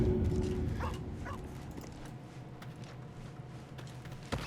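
A dog barks in a fantasy role-playing game, a couple of short yips early on over a low ambient game score, followed by faint whimpers and distant clip-clop hooves.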